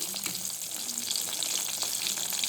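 Bitter gourd (kakarakaya) fries in a pan with a steady, hissing sizzle that stays even and fairly quiet throughout, with no voices.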